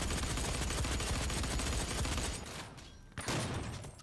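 Dense rapid gunfire in the DOOM open beta multiplayer shooter, a loud sustained fusillade that dips briefly and then resumes with fresh shots.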